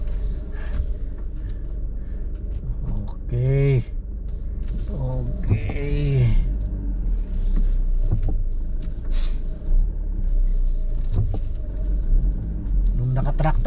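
A car reversing into a home garage, a steady low engine rumble running throughout, with someone talking over it.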